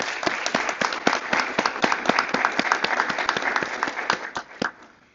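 Audience at a high school National Honor Society induction ceremony gives a round of applause for returning members, dense steady clapping that stays loud and then fades out near the end.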